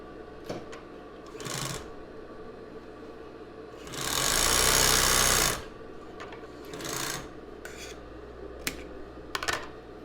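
A sewing machine stitches the side seams of an embroidered tulle bra, with a loud sustained run of stitching in the middle and shorter bursts before and after, separated by quiet handling noises.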